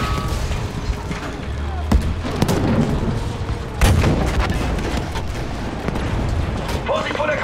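Heavy booming cannon blasts and explosions in Battlefield 5, a continuous battle din, with a couple of louder thuds rising above the rumbling background.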